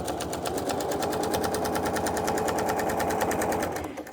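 A sewing machine hums and clatters continuously at close range while quilting, stitching in the ditch along the seams of a quilt top, a steady rapid run that tapers off at the end.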